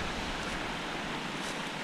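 Cachoeira de São Miguel waterfall roars as a steady, even broadband rush heard from a distance, with no voices and no breaks.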